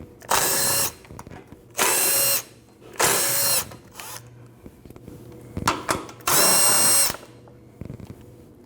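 Cordless power tool spinning out the 12mm bolts on the underbody cover of a 2012-2021 Nissan NV2500, in four loud separate bursts of about a second each, with quiet clinking between them.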